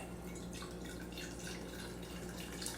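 Mountain Valley spring water poured steadily from a bottle into a glass, a continuous soft trickling splash with no speech.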